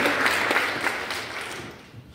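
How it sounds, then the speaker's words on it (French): Applause rises from a church congregation at a morning service, a fairly close burst of many clapping hands that gradually thins and fades over about two seconds. "est-ce qu'on peut applaudir notre grand Dieu ce matin?"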